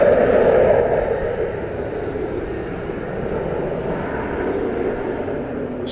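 A jet airliner departs from DFW Airport, a steady broad engine roar heard from nearby, loudest at the start and then holding a sustained rumbling drone.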